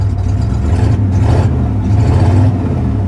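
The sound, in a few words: Ford Ranger 302 5.0 V8 engine revving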